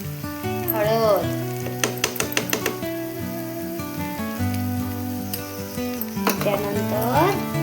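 Coriander powder, turmeric and spices sizzle steadily as they sauté in a pan for an ivy gourd (tondli) sabzi, a continuous hiss beneath background music.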